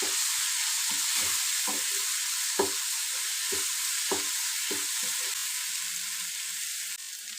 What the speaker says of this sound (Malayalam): തക്കാളിയും സവാളയൊക്കെ അത്യാവശ്യം ഒന്ന് വെന്ത് വരുമ്പം അതിലേക്ക് ആവശ്യത്തിന് മഞ്ഞൾപ്പൊടി ഇട്ട് നന്നായി ഇളക്കിയെടുക്കാം